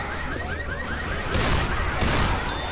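Gunfire in Left 4 Dead 2 on The Parish map, a chaotic spell of shots and crashes building toward the end, loud and cluttered, with no voices.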